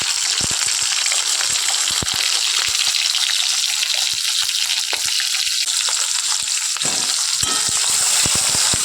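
Pomfret fish frying lightly in oil in a village-style kitchen, a loud constant crackling sizzle with scattered pops and spatter throughout, no talk.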